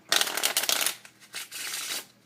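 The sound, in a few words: shuffling a deck of playing cards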